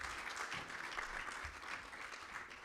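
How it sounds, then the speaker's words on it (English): Audience applause at the launch event for an annuity retirement plan: a steady, dense wash of many hands clapping together, fairly soft and somewhat distant, sustained without a break and with no talking over it. "A round of applause to Mrs."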